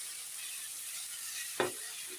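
Ground cumin, chilli, ginger and coriander paste frying for chicken ghugni, a soft steady sizzle with one sharp scrape of a spoon near the end, quiet and close.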